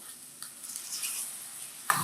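About a spoonful of water hits spices frying for methi dal and gives a soft, steady hiss that holds close by and then ends with a sharp louder burst. No one speaks.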